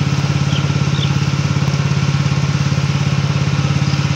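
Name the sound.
Robin engine running until its gas runs out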